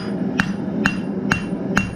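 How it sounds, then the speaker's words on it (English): A blacksmith hammers the leaf of a forged dinner bell, four sharp, evenly spaced metallic strikes close up over a steady low background hum. "So what I've learned is you start hammering"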